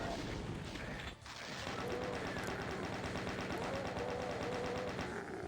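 Rapid, continuous weapon fire from the plasma rifle in the Final Doom: TNT Evilution video game, a dense run of shots sustained for several seconds after a brief dip, loud and close.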